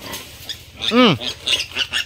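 Pigs and piglets on a small farm give a close, loud squealing grunt near the middle, with shorter snorts and grunts scattered around it.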